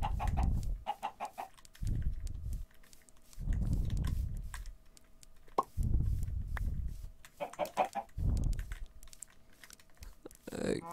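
Chickens clucking in the Minecraft video game, several short repeated clucks in bursts alongside keyboard typing and a player's voice.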